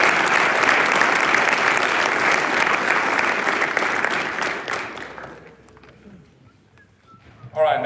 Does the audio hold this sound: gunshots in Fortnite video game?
no